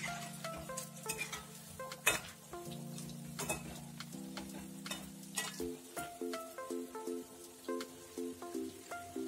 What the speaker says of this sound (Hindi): इसलिए गैस का फ्लेम धीमा ही रखकर इसे फ्राई करें। बीच बीच में इस तरीके से पलटते रहें